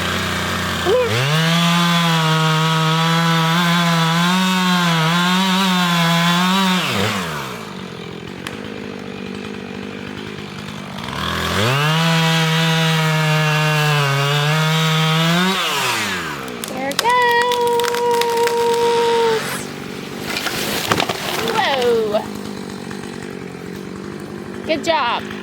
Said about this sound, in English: I don't like cutting trees down.